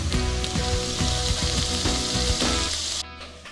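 Beef pot roast browning in a hot pan, a loud close steady sizzle and crackle of frying meat that continues unbroken, with no talk over it.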